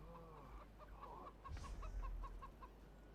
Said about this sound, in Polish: szalona kura